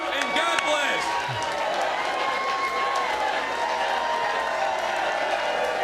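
A crowd at a political rally cheering and applauding after a Republican speech in Kentucky, a steady wash of claps, whoops and shouting, with someone talking over it.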